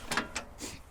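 Unlatching the hitch on a Ventrac KM500 loader gives a few short metallic clicks and a ratcheting clack, close and fairly quiet, with no talking.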